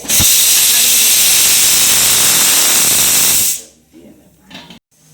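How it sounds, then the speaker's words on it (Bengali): Sesame seeds poured into hot melted jaggery for til khaja give a loud, continuous hissing sizzle lasting about three and a half seconds. It cuts off abruptly, leaving faint scattered sounds. "এবারে মা আস্তে আস্তে তিলটা ঢেলে দিচ্ছে"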